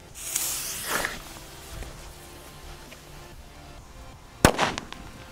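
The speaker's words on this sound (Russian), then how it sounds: "Далее у нас идут вот такие вот петарды Корсар 5, у нас их тут 6 штук." A Korsar 5 firecracker is lit and set off: a hissing fuse and crackle come first, then one sharp, loud bang with a short rattling tail.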